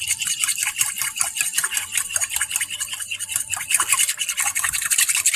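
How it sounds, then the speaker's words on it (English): A whisk beats mustard dipping sauce for Japanese steakhouse fare in a bowl, giving a fast, steady run of close, bright scraping strokes with no talking. "whisk it up like this"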